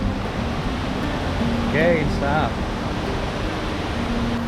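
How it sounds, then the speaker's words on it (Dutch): A waterfall near a traditional Laotian village, a steady close rush of falling water that runs the whole time, with brief voices and exclamations over it. "Dit is echt een mooie waterval."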